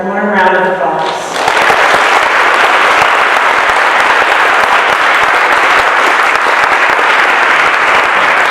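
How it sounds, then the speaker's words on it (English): An audience at a Poetry Out Loud 2024 recitation event breaks into loud, sustained applause after a brief spoken opening, the dense clapping holding steady to the end. "Let's give one more warm round of applause."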